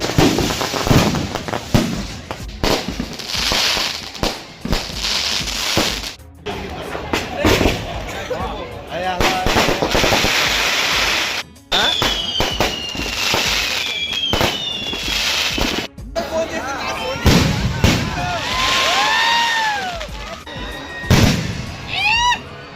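Fireworks bursting at a Telugu temple festival float procession, with repeated loud booms and crackling pops, whistling rising streaks, and a crowd murmuring throughout.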